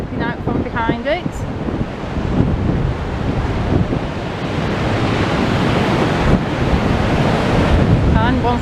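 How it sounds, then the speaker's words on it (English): Strong sea wind rushes and buffets continuously along Blackpool promenade, with waves surging beneath it and steady gusty roar throughout; a few faint whistling tones cut in near the start and end. "I can hear the wind whistling coming in from the sea"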